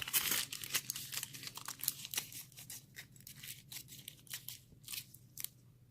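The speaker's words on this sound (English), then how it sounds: "I'm gonna fold this foil." Aluminium foil being folded over nails during acetone soak removal of dip powder, with close, quiet crinkling and crackling in quick irregular bursts throughout, no talk.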